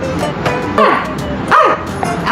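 A person imitates a dog, giving several short yipping barks and whimpers in quick succession, close and fairly loud.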